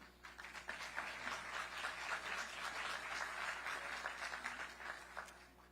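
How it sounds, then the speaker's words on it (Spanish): Warm applause from a forum audience welcoming a speaker onto the stage, a faint, even wash of many hands clapping together that holds steady for several seconds with no talk. "Recibámoslo con un fuerte aplauso."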